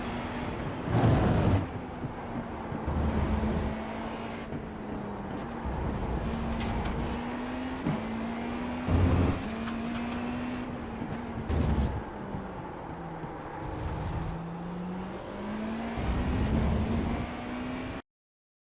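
GTP prototype race car in the iRacing sim at Motegi runs flat out through a sequence of turns, a steady, high engine drone rising and dipping with gear changes and lifts, with occasional louder bursts and no talk.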